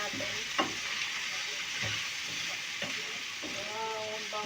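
Chicken gizzard frying in a pan with black pepper, a steady loud sizzle throughout with occasional scrapes and clacks of a utensil stirring.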